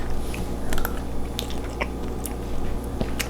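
Someone eats homemade no-churn pumpkin ice cream with a spoon, giving soft wet bites and chewing sounds with faint clicks up close, steady and quiet, with no talking.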